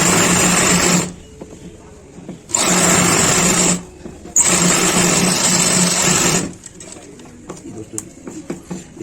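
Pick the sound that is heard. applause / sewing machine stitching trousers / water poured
sewing machine stitching trousers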